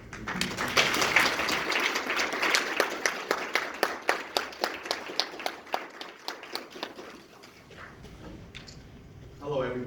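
An audience applauds at a mental health awareness program event, a dense burst of clapping that thins into a few loud, evenly spaced claps before dying out, with a voice returning at the end.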